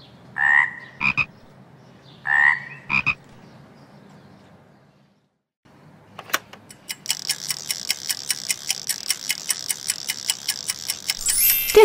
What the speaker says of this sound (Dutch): De kikker.